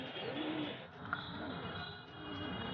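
Soft, low pigeon cooing rolls on continuously against a steady outdoor hiss, with no voices present.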